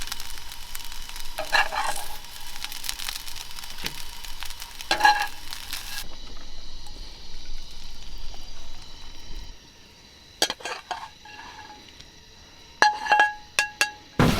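Hash browns fry in a small frying pan at a camp on a river raft. A steady sizzle is broken by scraping stirs and metallic clinks of a utensil against the pan.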